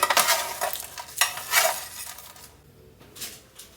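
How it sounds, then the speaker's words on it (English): Roasted brussels sprouts tossed in a pan, giving a few close, loud bursts of rattling and scraping in the first two seconds, then quieter scattered clinks. "So what we're going to do now is I'm going to give these a quick toss."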